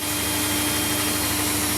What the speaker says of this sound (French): Le fameux gaz passe dans ce simple moteur qui va le transformer en électricité.